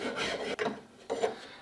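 A coarse rasp files a wooden shotgun stock in three dry scraping strokes, close and distinct, with short pauses between them.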